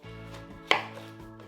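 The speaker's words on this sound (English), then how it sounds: "we are going to first half the watermelon." A knife halving a whole watermelon makes one sharp, close chop partway through, set against a steady low hum.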